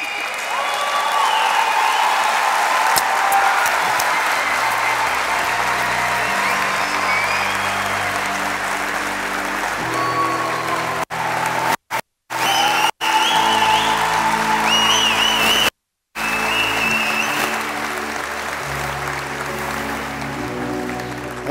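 Sustained audience applause fills a room, a dense steady roar of many hands with occasional whoops and shouts, briefly cut out twice before resuming.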